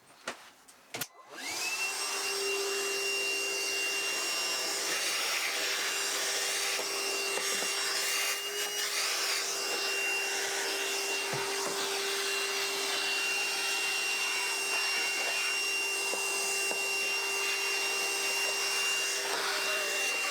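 A vacuum cleaner runs steadily inside the wooden interior of a 60-year-old yacht, starting after a few knocks and then holding a loud, even whine and roar throughout with no talking.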